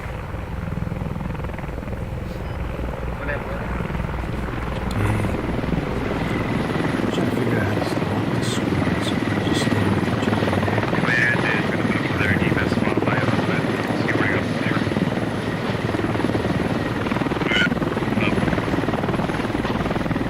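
A helicopter in the video game Squad holds a steady, loud rotor and turbine drone for the whole stretch, while players talk over the radio on top of it.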